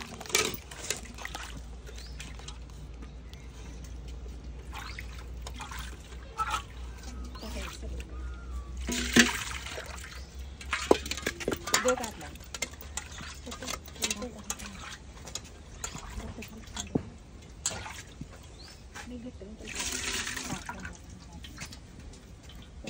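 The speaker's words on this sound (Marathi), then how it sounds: "आता हे सगळं मिश्रण एकत्र करून त्याच्यामध्ये टाकतोय मसाल्यामध्ये." Wet batter of wheat, millet, sago and rice is poured and stirred into spiced water in a pot for Khandeshi bibdya, giving faint sloshing and scraping in scattered bursts beneath a person talking.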